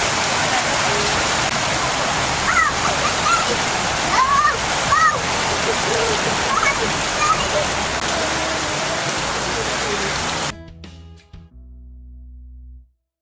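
Heavy rain falls steadily beside a river in Jamaica, a dense broadband wash of drops and running water with a few faint bird calls, continuing for about ten seconds before cutting off abruptly into near silence.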